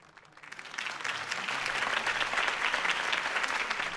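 Applause from a crowd in a video game rises quickly and holds as a dense, steady clapping, moderately distant, with no speech over it.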